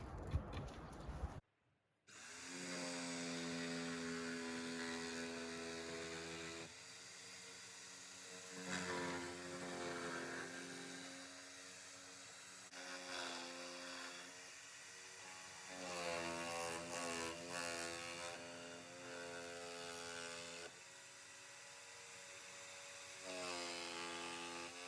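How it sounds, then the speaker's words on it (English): A saw cuts through fencing material on a smallholding, giving a sustained buzzing, whining drone that rises and dips over about twenty-five seconds after a brief pause at the start, fairly faint and steady throughout. "So I'll get the saw out and get the cutting."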